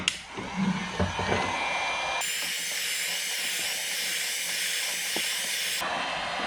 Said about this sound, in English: I'm just going to put the heat gun on one.